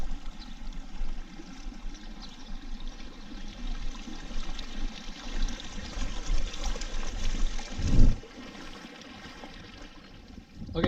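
Water in a creek with minnows trickles and flows steadily nearby, a continuous burbling wash that swells briefly with a louder splash before settling again.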